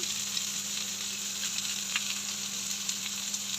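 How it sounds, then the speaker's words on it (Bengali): Chopped onions and green chillies fry in a pan with a steady, close sizzle and faint crackles, with no voices over it. "এখন ভালো করে ভেজে নেব"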